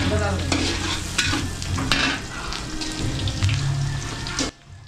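Food cooking in coconut milk, stirred with repeated scraping strokes over a close, steady bubbling sizzle that cuts off abruptly at the end, no talking.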